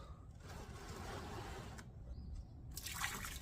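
Engine oil drains from a Kubota M7040 tractor into a pan, a faint, steady trickle with small splashes that come and go.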